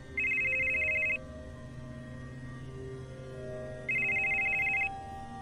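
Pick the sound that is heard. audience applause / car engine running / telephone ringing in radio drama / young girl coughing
telephone ringing in radio drama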